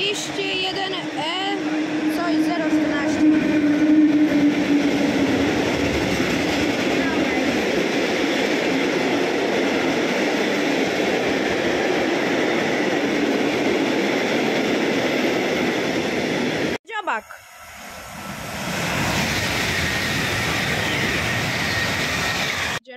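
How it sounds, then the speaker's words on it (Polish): A train rumbles past close by in Cieplewo, Poland, with steady loud rolling noise and rattling wheels, then an abrupt cut to a quieter continuing rumble. "A tutaj kolejny pociąg."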